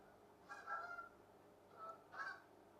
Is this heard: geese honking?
yes